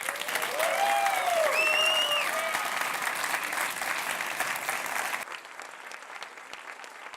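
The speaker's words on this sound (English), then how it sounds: "let's have a round of applause for our winners." An audience at a youth award gala applauds the winners with sustained clapping, loud at first and fading slightly toward the end, while voices speak faintly underneath.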